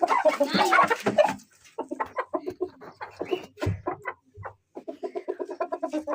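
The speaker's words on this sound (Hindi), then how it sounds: "लाल वाला मुर्गी के साथ दो मुर्गियाँ, एक ऊपर बैठी है और एक ये।" Chickens cluck repeatedly in a village coop that holds a red rooster and two hens, giving short, close calls in irregular bursts with a louder cackling flurry at the start.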